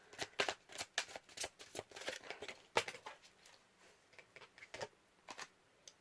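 Tarot cards are shuffled and drawn by hand, making crisp, uneven riffling flicks and soft slaps in quick irregular bursts, close up and fairly quiet with no talking.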